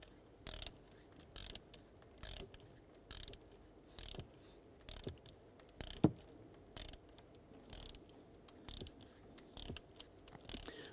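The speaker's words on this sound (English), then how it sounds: "We're going to go ahead and torque this down to 97 inch-pounds." Ratchet torquing down a bolt on the MDS solenoid of a 2011-2018 Ram 1500, with regular clicking bursts about once a second, close and fairly quiet.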